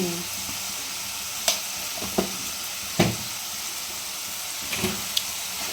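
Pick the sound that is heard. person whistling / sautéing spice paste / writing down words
sautéing spice paste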